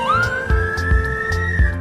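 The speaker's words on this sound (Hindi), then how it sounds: "एम्बुलेंस, यह है एम्बुलेंस।" An ambulance siren gives a loud, close wail that sweeps up and then holds a high tone, with rhythmic low thumps pulsing underneath.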